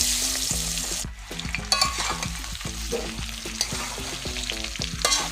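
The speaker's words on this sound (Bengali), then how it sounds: "এবার আম ছেড়ে দিচ্ছি।" Mango pieces for a sweet-sour pickle hit hot oil in a wok along with dried red chillies, giving a steady close sizzle broken by repeated scraping stirs of a spatula against the pan.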